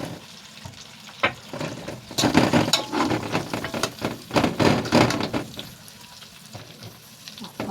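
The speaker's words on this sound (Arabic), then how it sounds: "انزل بالبصلايه. البصلايه هتطلع لي كل السوائل والحاجات اللي لازقه في الصينيه" Chopped onion hits a hot roasting tray of potatoes and chicken, setting off a loud, crackling sizzle that swells and pulses over several seconds as it is stirred, with no talking.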